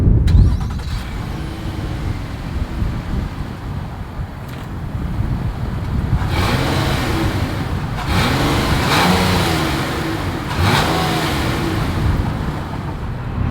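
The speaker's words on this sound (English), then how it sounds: "As always, here is that exhaust clip." Exhaust note of a 2022 Nissan Murano SUV, a steady mid-pitched engine drone with a couple of brief rises in revs, heard close with some wind noise and no talk.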